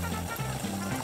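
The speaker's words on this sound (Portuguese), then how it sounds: "Esperamos até que a água comece a ferver." Water with baking soda heating on a stove toward a boil, a soft continuous bubbling and trickling that stays faint and steady throughout.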